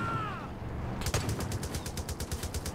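Rapid automatic gunfire in Far Cry 5 during an airship battle, a steady string of shots starting a second in over a rumbling engine-like background.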